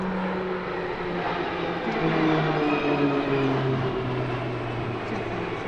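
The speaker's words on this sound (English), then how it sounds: "Now, Team Orlick begin their display with 4 PZL-130 Orlicks." Four PZL-130 Orlik turboprop trainers of Team Orlik fly a display at an airshow, their steady engine drone sounding moderately distant and continuous, swelling slightly midway, with no voices over it.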